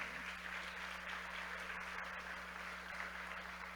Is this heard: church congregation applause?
yes